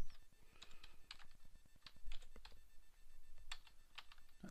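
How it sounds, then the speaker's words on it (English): Quiet, quick typing on a computer keyboard, irregular bursts of soft key clicks close by, no talking. "Not typing so well today."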